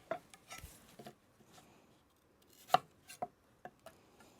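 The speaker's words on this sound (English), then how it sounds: "I'll probably cut them in quarters." Knife chopping apples into quarters on a cutting board for a baked maple mustard sausage dish: scattered sharp cuts and light taps at an uneven pace, close and fairly quiet, with no talking.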